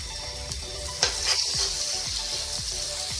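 An egg omelette with five green chillies frying in a pan gives a close, bright sizzle, broken by a few soft stirring scrapes and taps.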